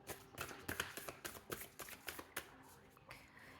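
A deck of crystal oracle cards shuffled by hand up close, a rapid run of crisp riffling slaps and taps with a faint voice in the background.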